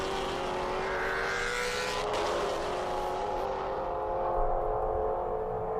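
Maserati Trofeo race cars roar around VIR raceway in Virginia, a sustained, fairly distant engine drone with a rising and falling pitch as the cars pass, steady throughout.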